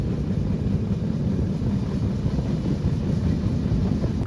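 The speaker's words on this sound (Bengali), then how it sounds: "ট্রেন প্রচুর স্পিডে যাচ্ছে, প্রচুর স্পিডে" A Ruposhi Bangla Express train running at high speed, a loud continuous low rumble and rattle of wheels and carriages, steady and close with no break and no voices.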